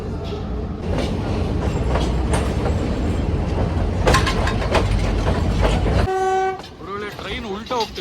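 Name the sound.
train running through Sri Lanka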